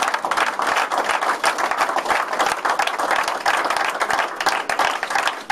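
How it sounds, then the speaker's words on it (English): Audience applause at a Hornets attendance press conference, sustained clapping from a room full of people with individual sharp claps audible in the steady wash, lasting several seconds without speech. "Let's give the Hornets a round of applause for doing such a great job."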